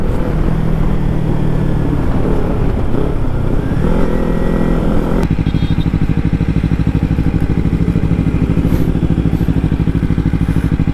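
A Kawasaki Ninja 300 BS6 motorcycle pulls hard at full throttle, its engine note rising through the revs, then a gear change into a sustained high, buzzing wail, loud and close throughout.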